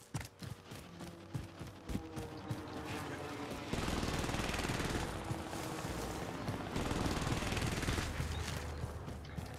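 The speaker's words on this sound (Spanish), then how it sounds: "Tiros de sniper, no sé de dónde salieron." Rapid bursts of sniper gunfire in an online shooter game, sharp cracks and echoing reports clustering loudly and continuously over a dense, noisy battle backdrop, with no voices present.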